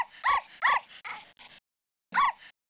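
A dog whimpers and yips in short, high-pitched cries, several close together and then one more after a brief silence, heard alone and close.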